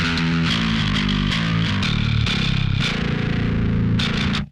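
A saturated, distorted metal bass guitar tone played without an amp. It runs as a thick, continuous riff with low notes moving under gritty high buzz, loud and steady, then cuts off abruptly at the end.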